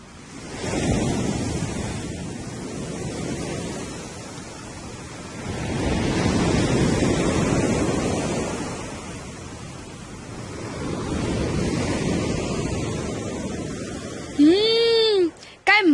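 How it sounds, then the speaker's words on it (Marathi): Sea waves rolling onto the shore in slow, loud surges that rise and fall several times under gusty wind, with a sharp whistling tone near the end. "किती मोठा समुद्र आहे"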